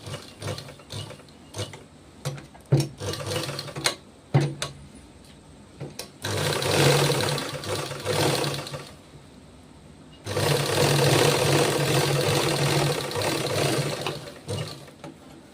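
A sewing machine stitching a drop neck, with short start-stop bursts of clattering needle mechanism at first, then two longer steady runs of rapid whirring stitching, close and fairly quiet.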